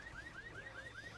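Car alarm set off in the video game Left 4 Dead on the Snow Town map, a repeating rising wail cycling several times quickly, faint and distant under game noise.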